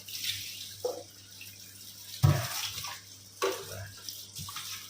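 Water splashes and sloshes as catfish are washed to strip off their slime: several distinct surges of pouring and splashing over a steady low hum, close by.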